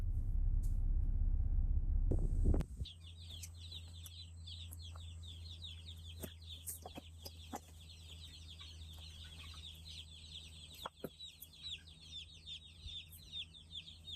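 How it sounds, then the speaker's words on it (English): Many small newly arrived broiler chicks peep continuously in high, busy chirps over a steady low hum, after a brief loud rustle at the start. "these are brand new little broiler chickens"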